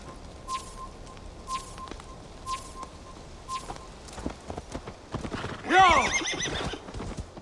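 A horse in the Assassin's Creed Valhalla video game trots with a regular clip-clop of hooves, then lets out a loud, drawn-out neigh near the end over faint outdoor ambience.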